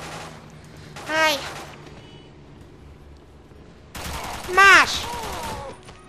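Two loud bursts of rapid gunfire from a James Bond video game, the second longer and louder, separated by quieter game background, with a man briefly exclaiming during the shots.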